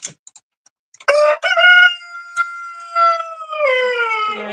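Chickens and a rooster in a coop, with a loud, close rooster crow in long drawn-out harmonic calls, preceded by a few faint short clucks and followed by another sustained crowing call.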